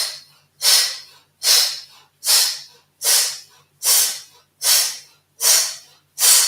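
Eight sharp, forceful exhalations in yoga rapid-fire breathing come through the nose at a steady rhythm, one roughly every 0.8 seconds. Each is a close, loud, hissing snort-like burst timed with shoulder shrugs, with no talking.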